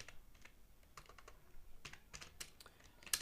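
A note is typed on a computer keyboard in quick, uneven bursts of close, soft key clicks with brief pauses between runs and a sharper tap at the end; no voices.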